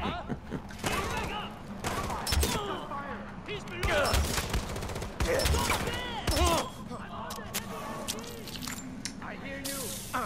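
Gunshots in Far Cry 4 ring out in sharp bursts and single cracks among game effects, with voices talking over much of the action.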